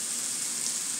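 A thick T-bone steak sears in a hot pan, giving a steady, close, even sizzle that hisses throughout without pause.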